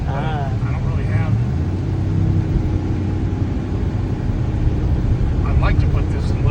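A car engine runs steadily while burning off carbon, a loud, close, continuous low rumble that holds for the whole stretch, with people talking over it.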